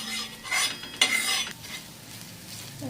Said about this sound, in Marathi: असं दोन मिनटं मस्त बारीक गॅसवर असं फ्राय करून घ्यायचं